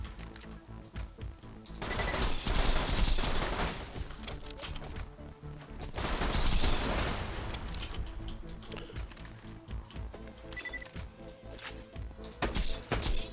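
An automated turret firing in Borderlands with Zer0, rapid sustained bursts of gunfire layered in dense game audio and music, swelling and easing over several seconds.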